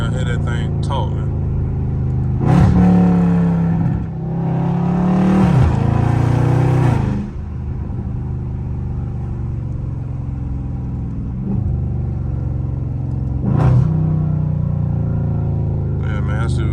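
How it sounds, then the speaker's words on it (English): A loud Dodge Scat Pack engine downshifting in traffic, with repeated surging revs that rise and fall in bursts over a deep rumbling drone, heard from inside the car. "Downshifting after every stop."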